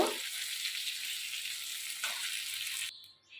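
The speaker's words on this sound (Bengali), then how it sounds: "এখানে আমি পাঁচ ফোড়ন দিলাম তেলটা আগে থেকেই দিয়ে রেখেছিলাম" Panch phoron spices sizzling in hot oil for an okra and prawn dish, a steady close hiss that holds for a few seconds before cutting away.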